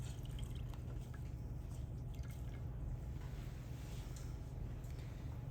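Warm water drips and trickles from a soaked barber wrap into a basin, a faint, steady patter over a constant low hum.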